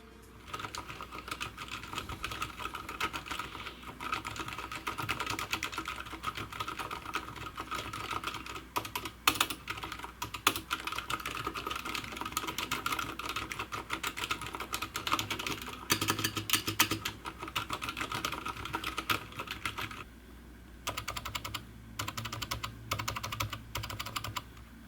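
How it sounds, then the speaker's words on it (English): A mechanical keyboard with Cherry MX Silent switches being typed on fast and continuously, a close, dense patter of muted key presses that carries on with barely a break, with no voice over it. "So what do Cherry MX Silence actually sound like?"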